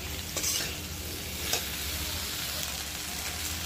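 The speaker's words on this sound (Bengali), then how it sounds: "এবার আমি বেগুন আলুটা একটু কষিয়ে নেব কিছুক্ষণ।" Eggplant and potato sizzle steadily in a hot pan while being sautéed, with scraping stirs and occasional clinks of the utensil against the metal, close and moderately loud.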